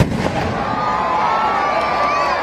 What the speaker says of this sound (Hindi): जोरदार देखिए आतिशबाजी के नजारे।